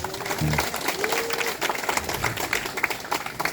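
Members of a marathon club clap for their branch at an outdoor Sunday race gathering, a steady crackle of hands filling the clip while a voice carries over the top.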